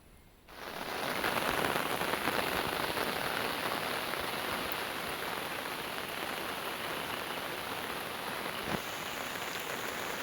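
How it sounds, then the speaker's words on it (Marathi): Heavy monsoon rain pours down on a village in Konkan. It rises quickly into a dense, steady roar of drops hitting surfaces that continues unbroken and close by. "पाऊस लागतोय आता जवळजवळ 15-1 मिनटं."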